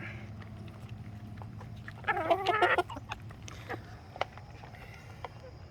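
Chickens cluck in a brief loud burst at a homestead morning feeding of cracked corn, chicken feed and wheat bran, over steady low background noise with a few scattered short sounds.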